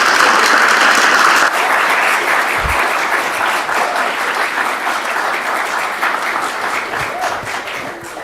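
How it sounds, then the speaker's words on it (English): Steady audience applause at the close of a public astronomy talk, many hands clapping evenly and loudly for about eight seconds with no speech over it. "let's give Kelsey one more big round of applause"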